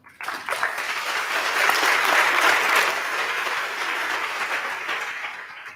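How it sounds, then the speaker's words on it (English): An audience at a main-stage event breaks into applause, rising quickly from silence into a dense, sustained roar of clapping that eases slightly toward the end, with no voices over it. "please give yourself a round of applause for being here"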